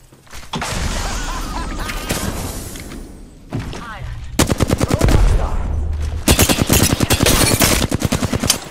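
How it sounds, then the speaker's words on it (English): Gunfire in the video game Apex Legends: bursts of rapid automatic shots, loud and close, with thumps and game voice callouts, broken by a short pause before dense sustained fire resumes. "Taking fire. Reloading. Enemies in the distance. Fire."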